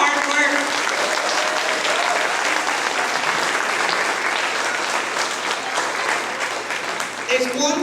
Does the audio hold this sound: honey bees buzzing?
no